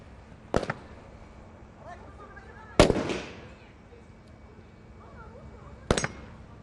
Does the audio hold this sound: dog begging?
no